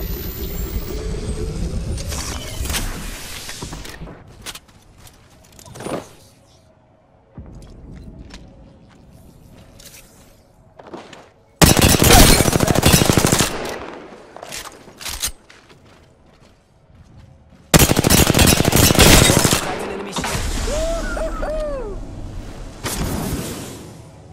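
Gunfire in the video game Apex Legends comes as long, loud, dense bursts of rapid shots separated by quieter stretches of clicks and mechanical game sounds, with brief voice lines in between.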